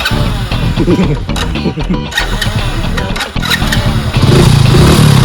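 A motorcycle engine cranks and catches, then runs loud and close with a rough, rising rumble, while people talk over it.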